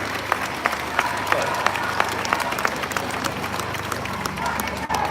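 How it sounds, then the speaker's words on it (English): Crowd applause at an outdoor pro-life rally in Perth, steady clapping sustained across the whole stretch with voices mixed in underneath. "Give them a big clap."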